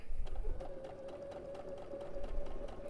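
A sewing machine stitches a quilt block with a quarter-inch foot, giving a steady, continuous hum at close range with a faint rhythmic ticking, running alone without talk.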